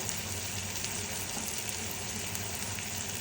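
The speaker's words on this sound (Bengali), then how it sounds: "আমি মাছটা ভালো করে কষিয়ে নিচ্ছি আগে মশলাটা" Fish and spices frying in a pan, a continuous, even sizzle and hiss, fairly soft and steady throughout with no voices.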